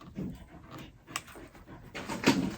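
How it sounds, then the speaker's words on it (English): A pet dog named Rex pants softly nearby in quick uneven breaths, with a brief scratching or whimpering sound rising toward the end. "So that's my dog. He's my baby."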